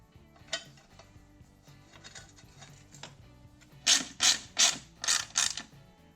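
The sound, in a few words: ratchet on bolts of YZ250 frame guard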